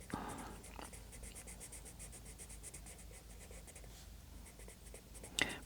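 Steady scratchy strokes of Inktense pencils coloring flower patterns on paper, close and quiet, with a soft continuous scratching texture and a sharper tap near the end.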